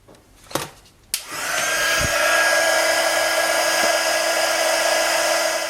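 A crafting heat tool blows hot air to melt white embossing powder on a stamped card: two brief clicks, then a steady loud whooshing hum that runs continuously to the end, close up and with no one speaking.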